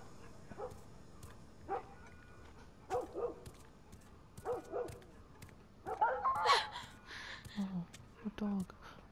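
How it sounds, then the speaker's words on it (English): A dog in The Last of Us barks and yips in short, scattered bursts, fairly faint and distant at first, then louder and closer near the end, with a few bits of talk among the barks. "Dog."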